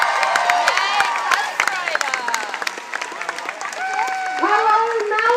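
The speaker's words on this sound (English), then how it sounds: "Can you give her a big round of applause?" At a March in March protest rally in Melbourne, a crowd claps and cheers for a feminist activist speaker, with scattered whoops and voices rising over the applause.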